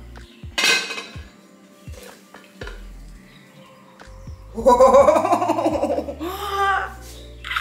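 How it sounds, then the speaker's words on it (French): A Spanish tortilla being flipped in a frying pan: clanks and scrapes of pan and utensils, followed by an excited voice and laughter. "c'est le moment du retourné de tortilla"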